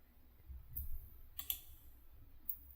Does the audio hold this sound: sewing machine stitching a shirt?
no